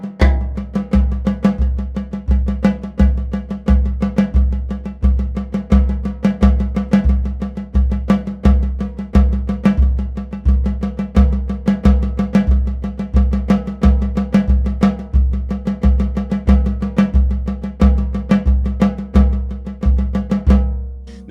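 An instrument plays steady eighth notes with accents over a melodic rhythm, sounding a clear, even pulse of pitched notes for about twenty seconds with no talking.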